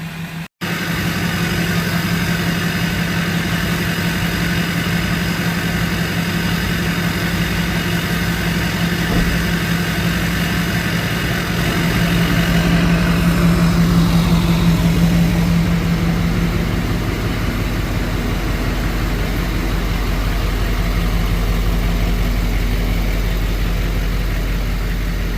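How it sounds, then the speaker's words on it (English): A Duramax diesel truck fitted with an MBRP 5-inch exhaust idles with a steady, deep, loud rumble from close by, with a brief shift in tone partway through and no talking. "Can't believe how much louder it is just idling."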